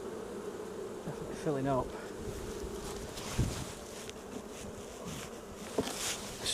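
Honey bees drone steadily from an open hive being inspected on a busy morning, a loud continuous buzz with a speaking voice briefly over it and some wind rumble.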